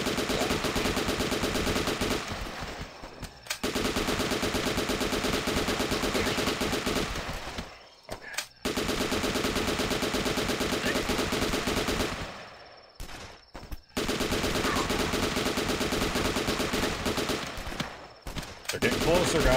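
Sustained automatic gunfire from a wave-defense shooter game, dense and loud for long stretches, broken by a few brief pauses, with a voice faintly underneath.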